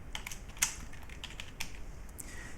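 Quiet, close typing on a computer keyboard while editing an ebook, with a few scattered light key clicks and one or two firmer taps against a soft background hum.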